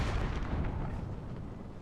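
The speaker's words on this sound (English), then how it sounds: "Oh wait, that's a cannon." A cannon booms in Zelda: Tears of the Kingdom, a loud, deep, rumbling blast that fills the whole clip with heavy low-end roar and no talk.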